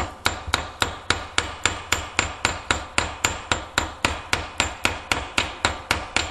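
A hammer strikes the end of a metal rod to flatten its head, part of a homemade tool for removing a washing machine drum spider; about twenty-four sharp, evenly spaced metallic blows ring out close and loud over six seconds.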